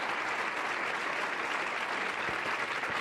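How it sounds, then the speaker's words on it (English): Audience applause fills a televised 1983 Louisiana gubernatorial debate between candidates Treen and Edwards, a dense, steady roar of many hands clapping close and loud without a break. "Maybe applause for both of our candidates."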